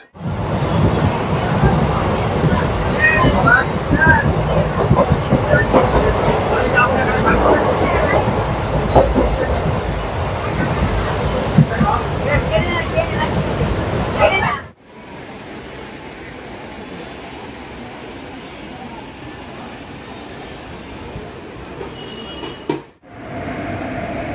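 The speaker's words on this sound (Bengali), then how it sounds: "এই হচ্ছে আমাদের ট্রেন 13187 মা তারা এক্সপ্রেস।" The Maa Tara Express passenger train rumbles loudly with clattering wheels at a station, then the noise abruptly drops to a quieter, steady hum.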